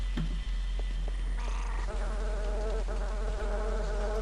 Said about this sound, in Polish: Dobra, zabójcze komary. Gdzie są?